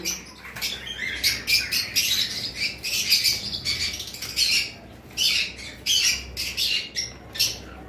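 Cockatiel pair, a breeding pair kept as pets, giving repeated loud squawking calls in quick bursts, close by, with brief gaps between calls.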